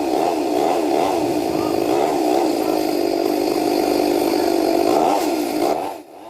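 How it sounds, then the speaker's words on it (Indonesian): A chainsaw cuts steadily through the thick trunk of a fallen banyan tree blocking a city street in Central Jakarta after strong winds, its engine whining loud and continuous before easing off at the end. "Menggunakan gergaji mesin, petugas satu persatu memotong batang kayu pohon yang melintang."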